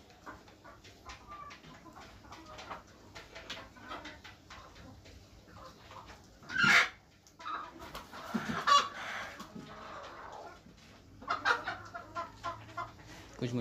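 Local desi hens cluck and murmur in a coop on a poultry farm, with a sharper squawk partway through and scattered softer clucks continuing around it.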